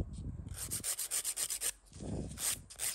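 A gel nail extension built on lower forms in Soft Ash Pink gel is filed narrower, with quick, rhythmic, close-up rasping strokes in a steady run and no talking.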